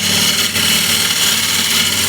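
A ball gouge cuts an Osage orange wood plate spinning on a lathe, a steady dense whirring hum with a continuous scraping hiss, heard alone.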